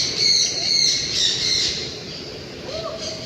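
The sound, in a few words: parrot squawking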